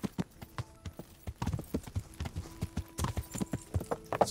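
Horse hooves clip-clop steadily in the video game Kingdom Come Deliverance, with close, evenly spaced hoofbeats throughout and faint background music beneath them.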